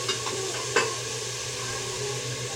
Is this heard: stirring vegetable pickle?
yes